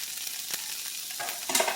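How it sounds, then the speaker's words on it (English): Sliced peppers go into a pan of softening onions for sausage and pepper sandwiches, a soft frying hiss that swells into a louder sizzle near the end, close and without talk. "once the onions are a little bit just about soft, I'm going to dump in my peppers"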